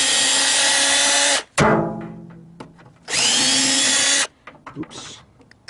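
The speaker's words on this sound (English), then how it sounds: "I gotta finish taking these screws right here out of here." Power drill backing screws out of a microwave pulled from a dumpster: two loud, close whirring bursts of about a second and a half each, with clatter and handling noises between them.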